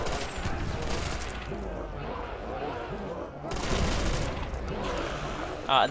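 Rapid video-game gunfire from the original Magnum, dense bursts of shots crackling continuously at close range with brief lulls, loud and sustained over the whole stretch.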